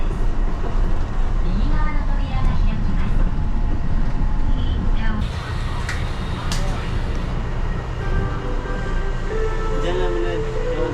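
Light rail train running through Kobe, Japan, with steady rumbling rail and wheel noise, a sudden braking, and a clear automated voice announcement partway through; people talk over the ride.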